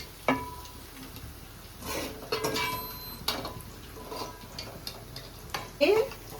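Raw prawns with gongura being stirred and fried in a pan, with a spoon scraping and clinking against the metal and a low sizzle beneath, sporadic and close, with faint voices in the background.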